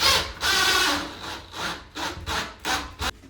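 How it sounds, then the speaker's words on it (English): A fitting on a glass shower panel is screwed in by hand, giving a series of scraping, rasping twists in uneven bursts, close up, with no talk. "Then screw it in"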